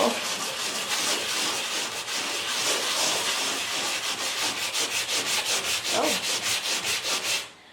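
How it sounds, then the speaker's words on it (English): Painted surfaces in a jungle-themed nursery are sanded smooth by hand: continuous close rasping strokes that settle into a regular back-and-forth rhythm before stopping abruptly at the end, with no talk. "we're going to sand everything down so it's nice and smooth."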